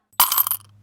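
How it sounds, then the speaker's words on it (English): A quick clatter of coins dropping into a container, a short bright jingle that settles within a second, with a low steady hum beneath. "Me putting money in the gross jar."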